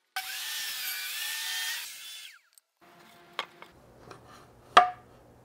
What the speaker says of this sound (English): I think I'm actually just going to cut this long piece of plywood and check it with a square